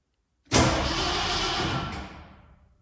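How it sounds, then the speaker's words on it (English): The engine of a 1967 Ford F100 Bumpside pickup turns over in one steady, loud cranking burst lasting about a second and a half, then winds down and stops, with no voices over it. "Okay, it cranks."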